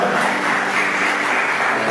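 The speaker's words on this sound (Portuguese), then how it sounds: "Você pode dar uma salva de palmas para ele?" A church congregation at a Portuguese-language family service breaks into applause. The clapping is loud and dense and holds steady for a couple of seconds, with no voice over it.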